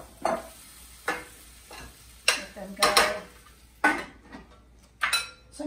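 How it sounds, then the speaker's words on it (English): Mushrooms dropped into a pot of soup base made from a butter and flour roux with shallots, a series of soft clattering plops and scrapes spaced about a second apart over a faint sizzle. "we're ready to put these mushrooms in the soup"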